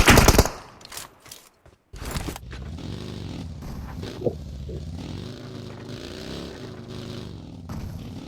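Rapid gunfire bursts from a video game battle open loud and close, followed by a steady droning engine or vehicle hum with small clicks and shifts.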